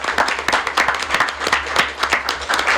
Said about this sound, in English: So I think a round of applause is worthy